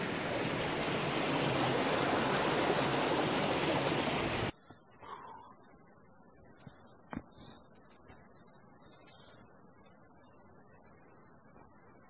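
Crickets and other insects trill in a continuous high chorus outdoors in the Ruahine range. For the first few seconds a loud broadband rush like wind or water masks them, then they carry on steadily.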